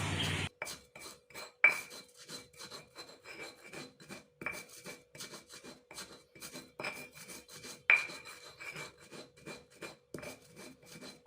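Pepper and coriander pounded in a mortar for cassava leaf curry, a steady run of close, dry grinding and knocking strokes with a couple of sharper hits, no voices.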